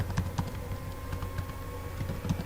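Rapid keystrokes on a computer keyboard click in quick irregular bursts, close and clear, with no talking over them.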